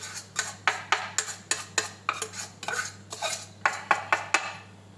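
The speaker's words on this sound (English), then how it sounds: "Get my serving spoon here just to help get out the poppy seeds." A metal serving spoon scrapes and knocks against a bowl while scooping out a poppy seed slurry, a rapid series of about seventeen close, sharp clinks and scrapes in an uneven rhythm.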